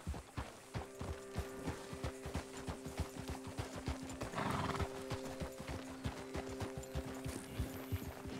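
Horse hooves clip-clop in a steady walking rhythm, close and clear, from the Red Dead Redemption 2 video game, with a loud whinny bursting out midway over light ambient music tones.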